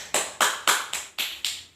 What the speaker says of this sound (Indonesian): kita memberikan aplaus kepada kelompok 2